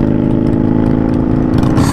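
A Harley-Davidson Sportster 883 Iron motorcycle rumbles with a low, deep, loud exhaust note close by, a steady throbbing engine pulse running without a break.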